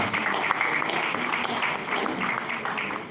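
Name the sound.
audience applause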